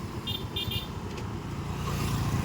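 Steady road traffic on a busy street, with cars passing continuously in a low, rumbling wash and a few brief horn toots near the start.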